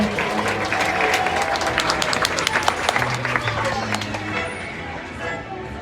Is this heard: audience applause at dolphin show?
yes